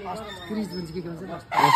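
Local chickens cluck nearby at Mahendra Park in Nepalgunj, Nepal, while someone talks, ending in a sudden loud burst of squawking.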